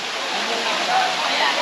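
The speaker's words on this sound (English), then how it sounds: "This is Indian Creek Falls." Indian Creek Falls near Bryson City, North Carolina, roars as a steady, loud broadband wash of falling water over slick creek stones, continuous and close throughout.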